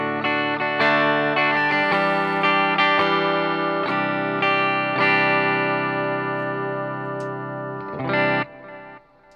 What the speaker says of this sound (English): So again, this is clean with the compressor.